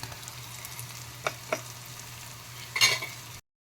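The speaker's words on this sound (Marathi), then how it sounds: "कांदा भाजत आलेला आहे त्याच्यामध्ये मी आता टामॅटो घालत आहे" Onion and tomato fry in a pan as ginger garlic paste goes in: a low, steady sizzle broken by a few brief stirring scrapes, with a louder clatter near the end.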